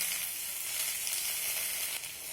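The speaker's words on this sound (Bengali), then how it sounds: "পাট শাকগুলো একদম মুচমুচে করে ভেজে নিতে হবে" Jute leaves fry in oil in a pan over a low flame, a bright, steady, close sizzling hiss with faint crackle, without any talking.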